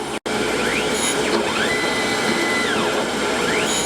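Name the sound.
grinder grinding a steel gage block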